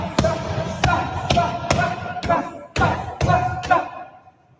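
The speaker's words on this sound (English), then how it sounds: "Just really heavy thudding shots." Heavy boxing punches thud into a bag or pads one after another, about seven solid impacts at a steady pace with brief gaps between, close and loud, with no one talking over them.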